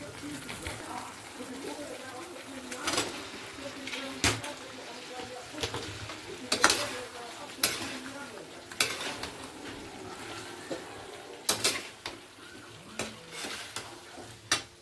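Aloo gobi vegetables frying in oil in a home kitchen pan, with a steady soft sizzle and repeated sharp clinks of a spoon stirring against the pan, a voice talking now and then.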